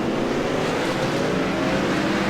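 A race car engine at Talladega in a sim racing video game drones steadily, a constant close, buzzing roar with no pauses.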